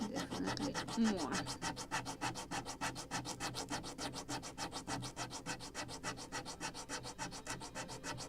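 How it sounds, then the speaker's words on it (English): Close, continuous hand sanding of a wooden deck part for a Model Shipways Philadelphia gunboat model, the 1776 vessel, with even, rhythmic rasping strokes repeating quickly and steadily throughout, no voices over it. "Like a lot of sanding."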